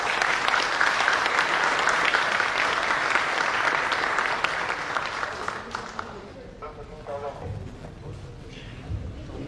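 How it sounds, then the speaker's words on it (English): A large audience gives a loud, sustained round of applause to open a CEO conclave of an alumni association, with dense clapping for about six seconds before it thins into scattered claps and murmurs. "let us start this beautiful event with a massive round of applause"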